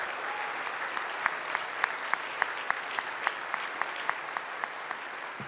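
Applause from a dinner audience at a chamber annual dinner after a choir sings America the Beautiful, a dense crowd clapping steadily throughout with a few sharper individual claps standing out.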